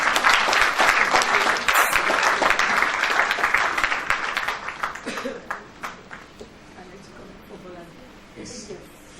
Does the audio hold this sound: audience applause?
yes